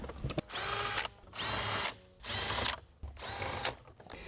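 A power drill or impact driver spins out 10mm bolts holding the radio in a Toyota GR86 dash, four sustained whirring bursts of about half a second to a second each, separated by brief pauses, loud and close.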